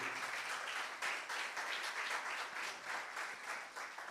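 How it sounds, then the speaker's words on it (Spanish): A church congregation applauds steadily, dense clapping filling the space at a moderate distance for several seconds, with no voices rising above it. "Denle un aplauso a Jesús, a Jesús"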